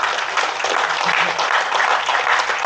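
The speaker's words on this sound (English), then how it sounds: "Give him a round of applause." Audience applauding at a MONIN Day 2025 bartending demonstration, a steady, dense wash of clapping that stays loud and even throughout.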